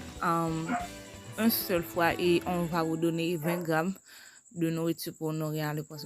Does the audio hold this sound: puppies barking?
yes